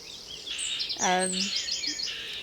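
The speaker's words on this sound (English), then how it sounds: "As you can hear, there's plenty of birds around." Birds chirp and trill outdoors near the River Welland, several bright calls overlapping, with one clear descending trill standing out near the middle.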